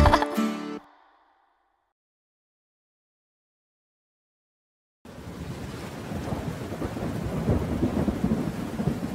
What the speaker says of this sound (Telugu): చిట్టపట్ట చిట్టపట్ట వాన వచ్చే